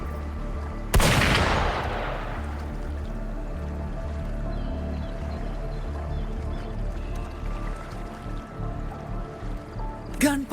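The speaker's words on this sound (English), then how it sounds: "Gunfire! We've got intruders." A single loud gunshot rings out early in Wuthering Waves, its sharp crack decaying over a low steady ambient hum that continues alone, with a faint thud near the end.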